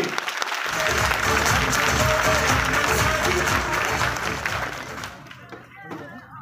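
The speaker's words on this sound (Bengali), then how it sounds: "এন্টায়ার ম্যানেজমেন্টের জন্য একটা জোরদার হাততালি" Audience at a Modicare director workshop giving a hearty round of applause, dense clapping from a large crowd that swells loud, holds, then tapers off near the end, with some voices mixed in.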